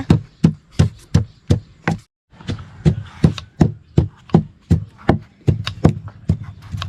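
A knife chops green papaya on a board in a steady, rhythmic series of close, solid thuds, pausing briefly once before resuming at the same pace.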